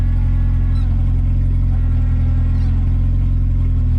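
A Honda Civic with a swapped B18B engine idles and revs steadily, a low, continuous mechanical rumble with a constant droning hum throughout.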